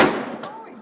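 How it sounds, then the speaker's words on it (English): A cannon is fired into the floor with one sharp, loud blast at the start, followed by a rumbling decay that fades over under a second. "He had one job, just one, fire the cannon"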